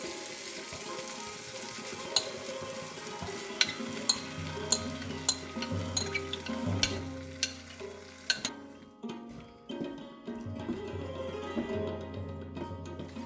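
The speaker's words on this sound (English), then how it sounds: "now I'm going to add the blended spinach in it." Blended spinach for palak paneer cooks in a pan with a steady close sizzle and sharp spoon clinks against the metal. The frying quiets and softens partway through.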